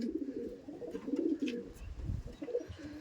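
A large racing pigeon coos in soft, low, rolling bursts, close by and fairly quiet, with a couple of repeated coo phrases and faint higher chirps in the background.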